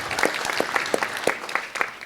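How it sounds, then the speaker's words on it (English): An audience at a Las Vegas city council ceremonial meeting applauds an undefeated school soccer team, giving moderate, scattered hand claps from a modest crowd over a couple of seconds. "they deserve a round of applause"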